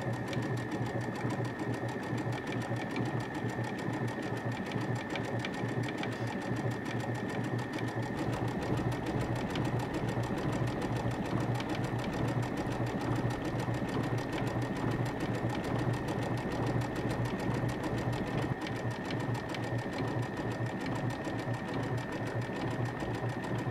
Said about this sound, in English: lower my presser foot, and I'm ready to sew.